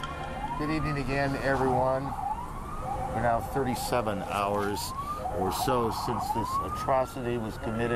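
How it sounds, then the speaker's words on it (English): Wailing emergency sirens echo through New York City streets in the aftermath of the September 11 attack, rising and falling repeatedly in the background while a news anchor speaks over them. "You can hear the sirens still in the background."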